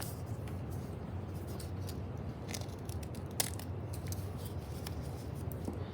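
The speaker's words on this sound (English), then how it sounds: "Actually, I'm going to cut it a little more straight." A clay slab is cut along a straight line, giving faint scraping and crisp snipping ticks over a steady low background hum, with no talk.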